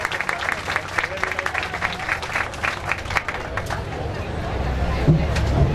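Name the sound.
audience applause at church event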